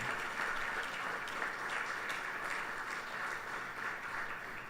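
Audience applause at a Krishna Mandir anniversary service, a steady wash of many hands clapping, moderately distant and even, continuing without a break.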